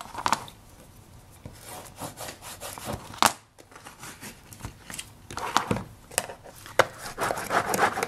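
A chisel presses and rubs fabric into the bottom corner of a box being covered and lined, making soft scraping and rustling strokes with a few sharper scuffs, close up and fairly quiet.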